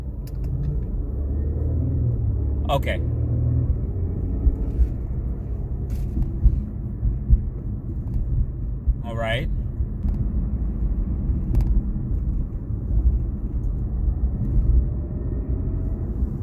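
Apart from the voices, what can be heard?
Infiniti Q60 transmission noise after solid transmission mount install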